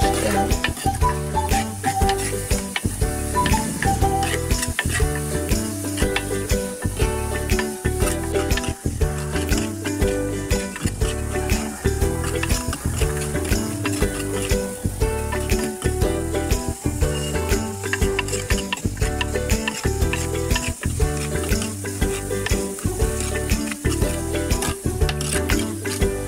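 Curry leaves sizzling in hot coconut oil for a Kerala-style sardine curry, a loud steady fry under constant rhythmic stirring and scraping of a spoon against the pan, close and continuous throughout.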